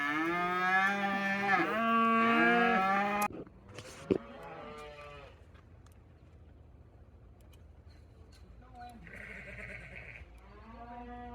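Cattle moo loudly nearby in a pasture, a long drawn-out call followed by quieter lowing and another moo later, with faint outdoor background.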